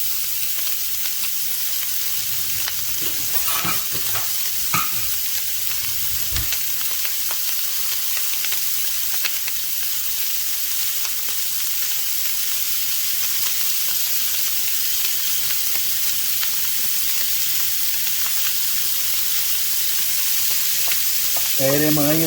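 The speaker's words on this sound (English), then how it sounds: "I'm gonna go ahead and add in my onions." Onions and garlic sizzle steadily in a hot pan alongside Italian sausage, with stirring scrapes breaking through a constant frying hiss for over twenty seconds, close and fairly loud, with no talking.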